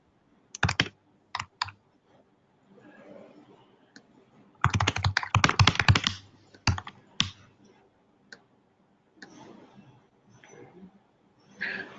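Someone types on a computer keyboard, quiet but clear, with sporadic key clicks and one dense rapid burst in the middle, separated by near silence and a faint murmur.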